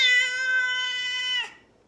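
A single drawn-out cat meow, loud and close, holding a steady pitch for over a second before cutting off into near silence.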